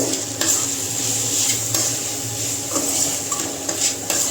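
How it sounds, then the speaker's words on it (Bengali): Cumin powder stirred into masala in a pan, steady soft sizzling with repeated scraping and tapping of a spoon against metal, close and moderately loud. "জিরে গুঁড়োটা সামান্য দিলাম আচ্ছা এবার একটু নেড়ে নেব"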